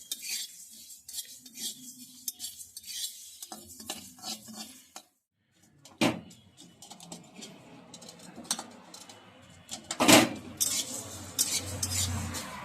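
Whole spices for homemade chaat masala dry roasting on low flame in a kadai, with intermittent scraping and clinking stirs, close and fairly quiet, one brief pause and a sharper clatter near the end.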